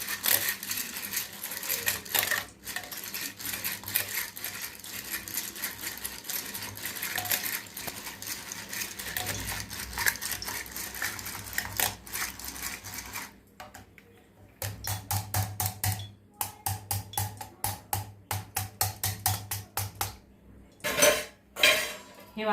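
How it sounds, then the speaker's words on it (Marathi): A wooden masher works cooked brinjal in a metal pan, giving dense repeated knocks and scrapes that turn into quicker, sharper bursts of clattering strokes near the end, with no talking. "या रईने थोडंसं आणखी घोटून घेऊ"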